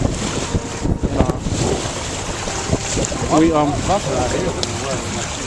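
A sailboat under sail heading to Cat Island, with heavy wind buffeting the microphone, water rushing and slapping along the hull in swells, and voices talking under the loud, steady roar.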